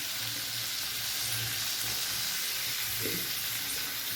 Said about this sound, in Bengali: এবার আমি টমেটো কুচিটা দিয়ে দেবো। টমেটো কুচিটা দিয়ে একটু নেড়ে নেব